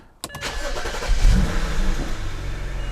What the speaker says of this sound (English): let's go start the car